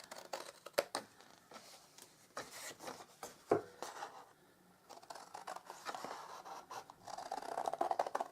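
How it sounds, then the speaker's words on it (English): Scissors cut through card along a score line for a large novelty gift box, close and quiet, with repeated snips, scraping and crinkling rustles of the card in irregular bursts. "So we're going to just cut all that away and cut up that score line."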